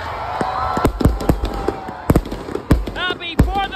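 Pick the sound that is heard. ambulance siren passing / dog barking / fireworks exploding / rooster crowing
fireworks exploding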